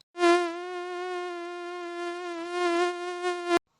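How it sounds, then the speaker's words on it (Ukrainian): A mosquito buzzes in a closed room at night as a steady, high, thin whine that carries on unbroken for over three seconds, swelling slightly in places before cutting off abruptly. "чому комарі влітають в квартиру навіть із зачиненими вікнами"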